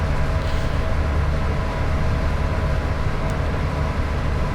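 Steady, loud rumble and rail roar from inside a train cab coasting at about 102 mph on the West Coast Main Line near Shap, with no voices over the continuous noise.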